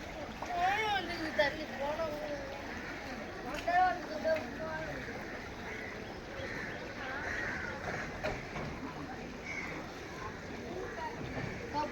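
Floodwater rushes through a village street during Cyclone Fengal, a steady broadband flowing and splashing roar that runs the whole time, with a nearby voice talking over it and a few brief bird-like calls.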